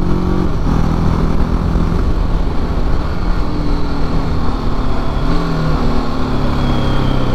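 A new Apache RTR 310 motorcycle engine runs close by with a loud, steady throb, its pitch stepping up and down a couple of times as it is revved, heard alone throughout.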